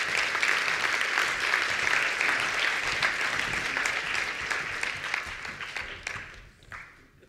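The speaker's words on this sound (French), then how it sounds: "On les applaudit." Audience at the launch of the UNIL entrepreneurship and innovation hub applauds four students, a dense sustained burst of clapping that gradually thins and fades out toward the end.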